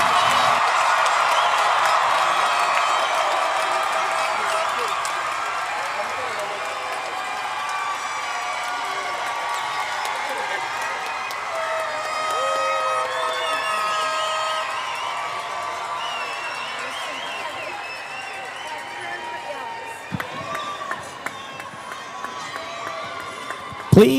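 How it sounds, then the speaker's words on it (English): A commencement crowd at a Washington High School graduation applauds and cheers the class of 2025, a sustained wash of clapping and shouts that gradually fades, with a few louder claps near the end. "will you please join me in another round of applause for the class of 2025"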